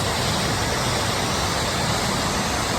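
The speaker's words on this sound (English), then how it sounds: "It's a waterfall behind us." Waterfall at Tumalo Falls in Bend, Oregon, a dense, steady rushing roar that fills the whole short stretch, loud and unvarying with no voices.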